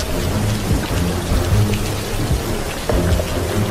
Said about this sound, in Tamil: வெளியே ஜோனு மழை